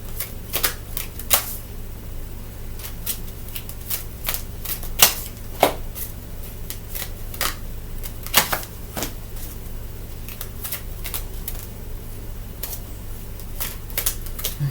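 Tarot cards being shuffled and laid out, giving repeated sharp card snaps and flicks at uneven intervals over a steady low background hum, close and fairly loud, with no talking.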